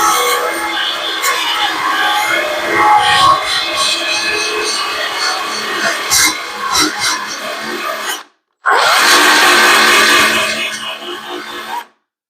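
A battery power tool cuts through car body spot welds with a steady, loud rasping grind for about eight seconds, stops abruptly, then a second loud burst runs for roughly three seconds before cutting off.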